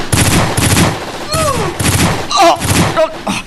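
Gunfire in a fight scene from an Ilocano love-story drama: several loud, rapid bursts of shots crack in quick succession, mixed with whistling, ricochet-like effects and brief shouts.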